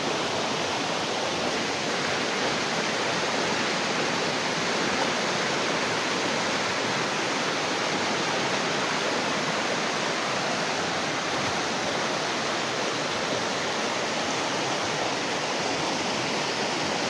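A creek on Burias Island rushes steadily with dense broadband water noise, loud and close, continuous without a break and no voices on top.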